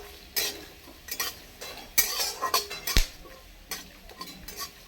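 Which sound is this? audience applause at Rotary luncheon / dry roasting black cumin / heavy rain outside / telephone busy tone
dry roasting black cumin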